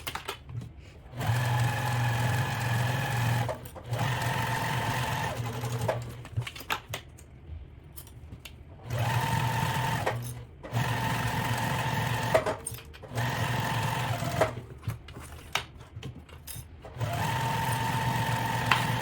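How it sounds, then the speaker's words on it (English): A sewing machine stitches fabric for reusable paper towels, running in several loud, steady bursts of a few seconds each with brief pauses between them, its rapid mechanical whir clear and close. "And I'm going to start to sew."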